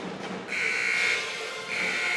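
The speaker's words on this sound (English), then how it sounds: "as the 3-minute buzzer sounds" A basketball game clock buzzer sounds in a gym at a 5A girls state tournament game between Spring Hill and St. Thomas Aquinas, giving one sustained electronic tone, a short break, then a second blast over crowd noise.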